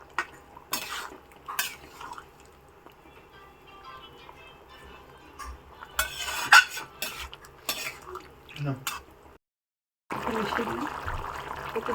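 A spoon stirs a paneer and potato curry in a pot, with soft scraping and clinks against the metal, close and quiet, and a brief pause before a louder burst of cooking noise.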